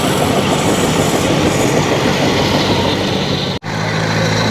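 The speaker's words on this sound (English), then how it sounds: "that 155 tractor without any implement on the back" A 155 tractor drives along with no implement hitched on the back, its engine rumbling as a steady, loud, close drone that cuts out briefly for a moment near the end.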